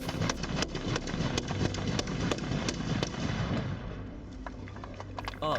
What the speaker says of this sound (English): that was a perfect 10-shot Shoden volley